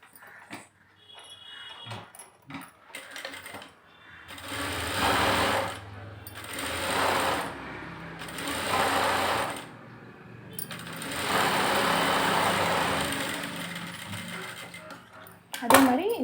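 Sewing machine stitching a puff sleeve, running in several loud near bursts of rapid whirring separated by short pauses, with small clicks and handling noises between runs.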